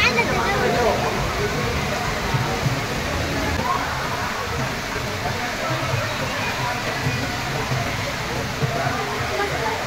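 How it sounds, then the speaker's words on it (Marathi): Heavy rain pouring down in a steady, dense hiss that lasts throughout, close and fairly loud, with a voice speaking over it. "बघू शकता जाम जोरान पाऊस लागलाय."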